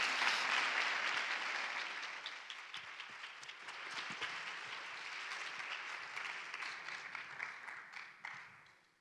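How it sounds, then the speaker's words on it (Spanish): Applause from a conference audience fills the room, strongest at the start and gradually thinning, with dense overlapping claps that taper off near the end. "Así que un aplauso para ellos y para Carlos Romà."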